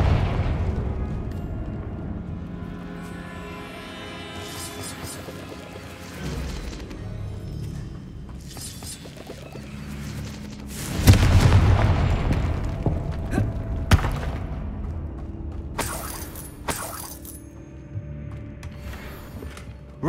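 Fire spell explosions in the video game Hogwarts Legacy: a loud booming blast bursts out midway over a layered game soundscape, with further crackling hits following, and no talking.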